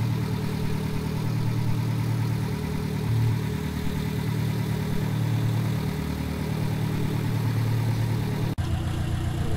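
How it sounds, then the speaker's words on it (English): A steady drone of an aircraft engine at throttle in Kerbal Space Program holds a constant low hum throughout, loud and even, with a brief dropout near the end before the hum resumes. "we're going to fly out here a ways. And throttle it up."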